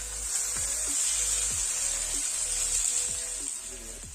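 Boiled potatoes hit a hot oiled pan for aloo mattar sabji, giving a steady, loud, close sizzle with occasional low scraping and clinks from stirring.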